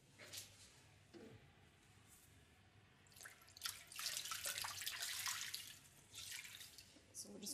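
Water runs and splashes softly as skin is rinsed during a bed bath in personal care. The trickle is faint and distant, with a fuller, louder stretch of pouring in the middle and lighter drips around it.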